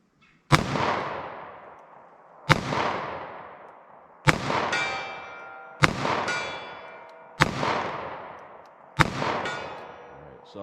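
A 3-inch .38 Special revolver firing Winchester SJHP rounds into ballistic gel: five loud, sharp shots at even intervals of about two seconds, each followed by a ringing decay, close to the mic.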